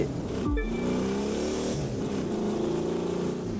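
Rally car in a racing video game: a revving engine with a brief gear-shift drop, then a steady, close engine drone that rises and falls, with faint tire noise.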